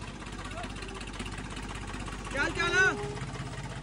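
A Ford 3600 tractor's diesel engine idles with a steady low throb beneath a voice, which rises briefly near the end.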